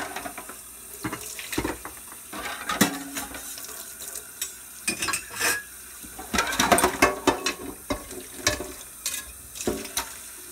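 Warm tap water runs into a kitchen sink during hand dishwashing, a steady splashing stream broken by clinks and clatter of dishes and a strainer, moderately close with no talking.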